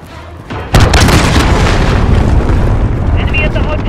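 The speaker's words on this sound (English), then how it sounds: "Allied cruise missile away." A cruise missile strike in Call of Duty: Modern Warfare hits with a sudden heavy boom, then a long loud rumbling roar of the blast and debris that fills the rest of the moment.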